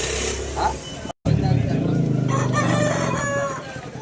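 A rooster crows at a busy rooster market, one long loud crow standing out over the chatter of people talking and a passing vehicle nearby.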